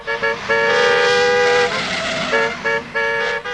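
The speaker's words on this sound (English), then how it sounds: "the angry sound of horns blasted at him from all directions" Car horns honking in a busy city street, loud repeated toots in short and long blasts over a low traffic rumble, several overlapping from different directions.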